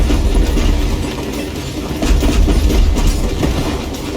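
A moving train in the video game Call of Juarez: Gunslinger rumbles loudly and continuously, with rhythmic clickety-clack wheel noise on the rails throughout and no voices.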